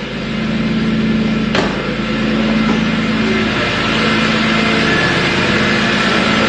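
A BMW M3 E46 engine idles steadily with a low hum, recorded close up under the hood, with one brief sharp knock early on.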